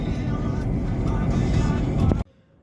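A truck driving along the road near Ternopil gives a steady, loud, close rumble of engine and road noise that cuts off abruptly near the end.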